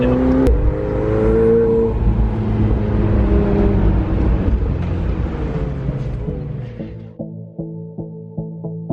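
A Ferrari 458 Speciale Aperta takes a corner fast, its engine note loud and sustained with shifting pitch, then easing off toward the end into a lower, pulsing tone.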